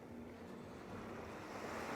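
Ocean waves washing steadily onto a shore by a warm sea, a continuous broad rushing surf with light wind noise and no voices.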